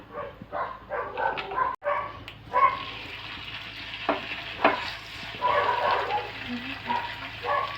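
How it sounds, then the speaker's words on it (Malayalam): Oil sizzles and crackles steadily as sardines fry in a pan with a little oil, punctuated by sharp scrapes and knocks of stirring close by. "നമുക്കിനി ആ മത്തി ഒന്ന് വറുത്തെടുക്കാവേ കുറച്ച് എണ്ണ ഒഴിക്കുന്നുള്ളൂ"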